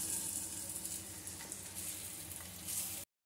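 Cashews frying in hot oil for kaju kadai paneer give a steady, close sizzle with fine crackling, unbroken for about three seconds with no voices.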